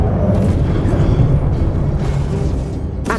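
A Confringo blasting spell explodes in Hogwarts Legacy with a loud, sustained low boom and rumbling burst that stays dense and heavy throughout.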